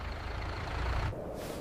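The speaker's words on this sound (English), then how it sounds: "Mom, the truck is here." A truck pulls up near a new house in town, its steady engine rumble broken by a sharp hiss of air brakes about midway, then a fainter tail of sound, close and fairly loud.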